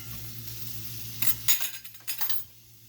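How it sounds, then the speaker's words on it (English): Bacon pieces fry in a pan with a soft steady sizzle, broken by a few sharp scrapes and clinks of a utensil pushing them around, close and fairly quiet. "I'm going to move my bacon pieces around"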